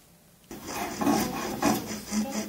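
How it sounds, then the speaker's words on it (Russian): A steel file rasps back and forth across an iron plate being shaped into a jewelry frame, steady rhythmic strokes repeating about every half second, close and clear with no talking. "Пилят, стачивают и паяют."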